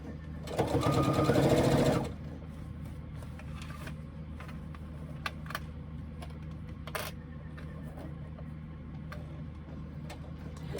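A sewing machine stitching a pocket seam in a brief, fairly loud burst of rapid stitching lasting over a second, followed by quiet room noise with scattered small clicks and taps.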